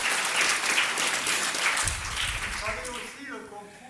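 Audience applause fills a French-language event closing, dense and steady throughout, with a voice speaking over the clapping near the end as it begins to fade.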